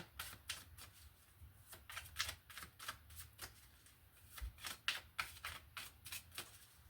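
Rapid crisp riffling of a tarot card deck, a string of quick papery bursts with brief pauses between them, close by and fairly quiet.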